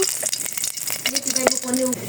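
Hot oil sizzles and crackles close by, with a few metallic rattles and scrapes from a pan over a short stretch.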